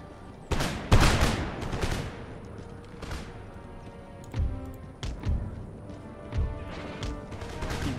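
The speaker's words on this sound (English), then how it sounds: "You men fire at will." Musket volley fire in the video game Empire: Total War, with booming crackling volleys followed by scattered individual shots and rumbling battle ambience, fairly loud, with no talking.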